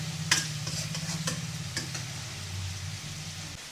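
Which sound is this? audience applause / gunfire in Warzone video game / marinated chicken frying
marinated chicken frying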